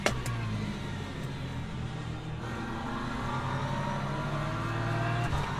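LMP3 prototype race cars in the Le Mans Ultimate racing game, a steady dense engine drone with harmonic whine that swells slightly toward the end, several cars close together with no talking.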